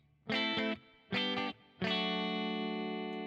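An electric guitar played through a clean amp model on an FAS AX8 sounds three chords: two short stabs, then a final one left ringing and slowly decaying.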